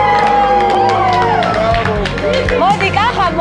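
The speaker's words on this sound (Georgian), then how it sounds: "აპლოდისმენტები კახას." Studio audience on the French game show Fort Boyard applauding and cheering for contestant Kakha, a dense burst of clapping and crowd noise with a voice speaking over it.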